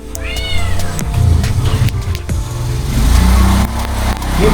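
A cat meows repeatedly at close range, with a rising, wavering cry early on, over steady low engine rumble from a Suzuki Burgman 125 scooter in a workshop setting.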